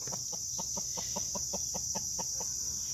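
Backyard chickens cluck in a steady, rapid series of short pulses over a constant high insect-like hiss, close and fairly loud, with no talk.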